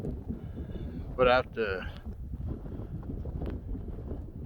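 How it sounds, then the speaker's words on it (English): Wind blows on a snowy morning walk during a snowstorm, a steady low rumble buffeting the microphone throughout. A person speaks briefly near the start. "Okay, it's windy. It's pretty windy."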